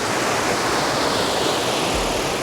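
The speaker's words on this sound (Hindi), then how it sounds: "देखो आप क्या शोर मचा रही है, ऐसे प्रेशर से पानी जा रहा है इन पत्थरों के नीचे से" A mountain river on the way to Birthi Waterfall forces its water under pressure beneath stones, making a loud, dense, unbroken roar heard up close with no talking over it.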